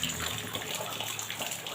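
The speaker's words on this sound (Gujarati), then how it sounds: "ચાલો તો એના માટે પાણી લઈ આવું" Water runs and pours in a steady, faint rush for under two seconds, with no clear splashes or breaks.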